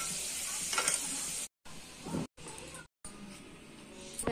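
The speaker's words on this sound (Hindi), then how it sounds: "आलू तलने के लिए डाल दे रहे हैं।" Potatoes frying in hot oil for a chicken curry give a steady sizzle with stirring noises, cut by several brief silent gaps.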